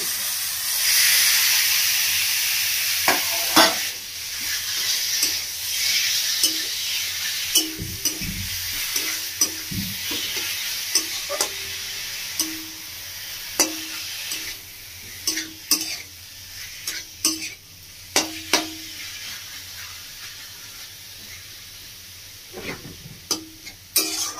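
Chicken pieces frying in spice masala that was fried first, with a steady close sizzle and repeated scraping stirs and clacks from a spoon against the pan throughout.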